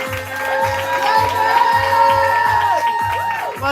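A live audience at a poetry slam cheers and whoops for a poet named Simeon, with loud, sustained crowd noise and rhythmic clapping throughout, punctuated by high whoops and shouts.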